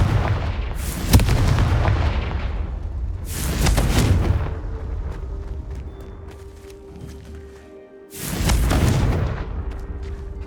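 Confringo fire spell blasts in the game Hogwarts Legacy, three loud booming explosions with rumbling tails separated by quieter stretches of ambient hum and tonal effects.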